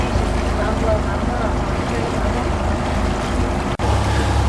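A low, steady deep-V motorboat engine idles at about 930 rpm, moving at 5 knots through canals, with a constant rumble, briefly cutting out near the end before resuming.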